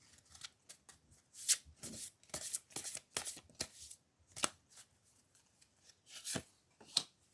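Tarot cards are shuffled and handled close by, with soft, irregular riffling bursts and sharp flicks separated by brief quiet gaps.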